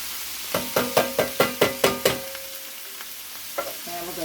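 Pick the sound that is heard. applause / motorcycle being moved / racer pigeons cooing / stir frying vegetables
stir frying vegetables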